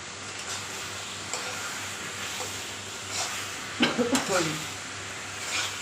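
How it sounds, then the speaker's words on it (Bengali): A spatula stirring chicken curry as it fries in a pan, soft scraping and sizzling under steady background noise, with a short run of clattering metal knocks near the end. "বাম হাতেই কত সুন্দর নাড়ছে খুন্তি দিয়ে"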